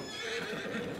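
A horse whinnies in Farming Simulator 22 beside a large barn on a horse farm. It is one brief, loud, close neigh over a steady background, with no talk.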